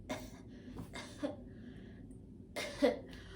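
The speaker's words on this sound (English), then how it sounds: "that's how I was coughing" A few strained, hoarse coughs in short bursts from a woman recovering from a C-section, painful, close and fairly quiet, separated by pauses.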